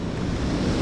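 Ocean waves from a north-east swell roll in at the feet on rocks covered in cunjevoi, a steady broadband wash of surf close by, with wind rushing across the microphone throughout.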